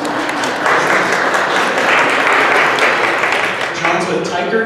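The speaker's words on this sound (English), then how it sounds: "Give him a round of applause." A luncheon crowd gives a round of applause, a loud, sustained patter of many hands that holds steady throughout, with a hint of a voice as it tapers at the end.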